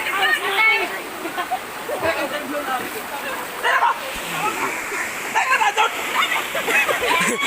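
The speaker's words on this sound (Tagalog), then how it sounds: "sobrang lakas po ng alon. I mean, ng agos ng tubig" Floodwaters rush loudly through San Roque, Pilar, on Siargao Island, a steady churning roar of strong current with splashing, while people talk and shout excitedly over it throughout.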